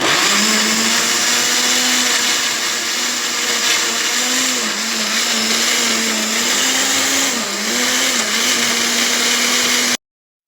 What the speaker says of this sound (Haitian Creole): On ne va pas mettre un peu dans le blender pour capable blender bien.